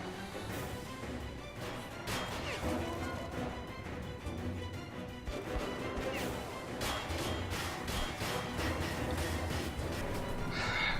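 Train ride in the video game Metro Last Light Redux: a constant loud rumbling rattle of rail cars rolling along, with clanks and metallic knocks over the steady roar, no talk.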